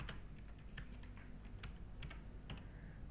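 A name is typed on a computer keyboard, a dozen or so light, quick clicks in an irregular rhythm, faint over a steady low hum.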